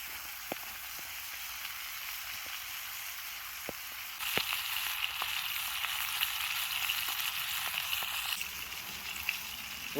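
Meat searing in butter in a pan over an outdoor cooking fire, giving a close, continuous sizzle that swells louder partway through, dotted with occasional sharp pops and ticks.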